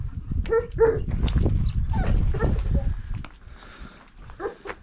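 Dogs barking and yipping nearby, with whimpers mixed in, and people talking in the background.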